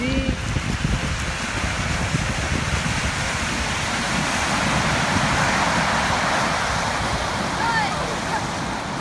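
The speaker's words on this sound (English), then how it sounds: "Look at that waves so big." Big ocean surf at San Clemente Beach in California, a continuous loud roar of breaking waves with wind noise, steady throughout the recording.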